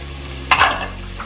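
Chili powder, cumin, cayenne and garam masala hit hot oil in a pan for butter chicken, giving a short burst of sizzling and a quick stir at close range, then settling to a low steady fizz.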